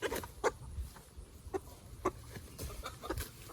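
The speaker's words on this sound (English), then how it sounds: "Yeah, that's a rooster." A free-range rooster gives short, repeated clucks and calls at a moderate distance, spaced irregularly over a quiet outdoor background.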